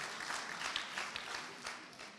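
Soft applause from a conference audience during a talk with François Hollande, a faint, distant continuous patter of many hands without clear individual claps, fading slightly near the end.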